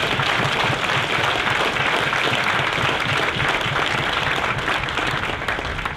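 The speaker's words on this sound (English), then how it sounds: "would you join me in a round of applause for the families of Beta Fox?" A large crowd at a Marine recruit graduation at the San Diego depot claps steadily and loudly, a continuous wash of applause that holds for several seconds.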